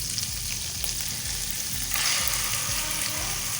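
Chicken hits a hot pan already coated with sautéed ginger-garlic paste for Pakistani-style noodles, setting off a steady, close frying sizzle that swells louder halfway through, with faint stirring scrapes underneath.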